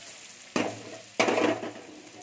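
Vegetables tipped into a hot pan for a sour mango and aubergine fish curry: two quick bursts of sharp sizzling, the second louder and longer, settling back to a low hiss between them, close by.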